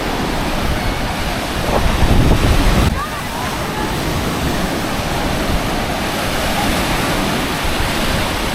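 Loud surf at Horseshoe Bay beach, waves churning sand in a continuous roar with heavy wind buffeting the microphone, swelling early then settling into a steady wash, with a voice talking now and then.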